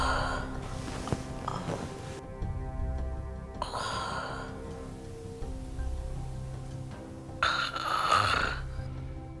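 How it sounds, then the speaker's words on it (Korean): A person with chronic rhinitis snoring through a blocked nose, a few long, rasping, nasal snores in a row with quiet breathing between them, close and fairly loud, with no talk over them. "코로 숨을 못 쉬니까 코를 골게 되더라고요"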